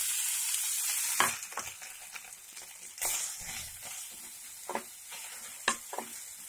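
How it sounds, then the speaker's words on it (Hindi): Boiled potatoes with cumin seeds fry over a low flame in peanut oil, giving a steady close sizzle broken by several sharp scrapes and stirs of a spatula against the pan. "इसको हम 2 मिनट भूनेंगे इसी तरीके से"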